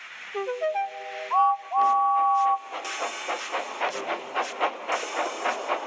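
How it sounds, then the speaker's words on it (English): Steam train whistles sound in rising tones, then chugging engines puff rhythmically with hissing steam, heavy and steady, close by, as they haul freight cars uphill. "the snorting engines forced the freight cars up the hill"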